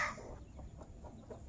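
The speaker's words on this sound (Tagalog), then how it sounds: "Yung manok namin ay lumilimlim na. Bumaba sa pugad." A mother hen that has just stepped down from her brooding nest gives a short run of soft, rhythmic clucks, close by and alone against a faint outdoor background.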